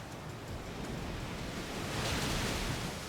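Muddy Water attack effect from a Pokémon VGC battle game, a broad continuous whooshing rush like surging water or surf, steady and fairly loud throughout with no talking.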